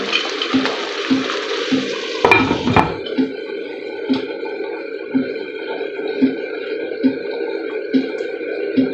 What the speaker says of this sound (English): When you finish stirring, you cover it for it to get cooked.